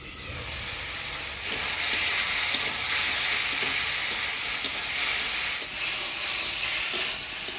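Rohu fish curry with Malabar spinach stems and potato hisses and sizzles steadily under a pan lid, a dense, even bubbling wash with faint clicks, close and fairly loud with no talk.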